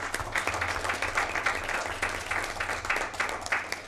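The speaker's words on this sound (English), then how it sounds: "Could we give her a big round of applause?" An audience at a board of education meeting breaks into brief applause, a steady patter of many hands clapping at moderate volume with a low hum underneath.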